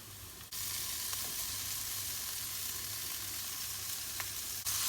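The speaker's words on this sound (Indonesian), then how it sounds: "Ditumis sampai wortelnya sedikit empuk." Carrots and mushrooms stir-fry in a hot pan with a steady, even sizzle that starts abruptly and holds throughout, with a couple of faint clicks from stirring and no talk.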